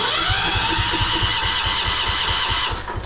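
A Wheel Horse lawn tractor engine turns over and catches, a rapid pulsing chug that runs loud and close before dropping away at the end.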